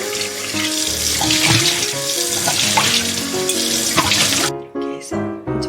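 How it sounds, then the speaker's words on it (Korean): A wine glass is rinsed under a running tap in a kitchen sink, giving a steady, close splashing water stream for most of the clip that breaks into short gushes and pauses near the end. "그래서 한번 헹궈 볼게."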